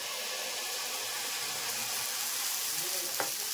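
Beetroot dosa batter spread with a spoon over a hot pan, a steady, even sizzle with a faint scrape of the spoon near the end.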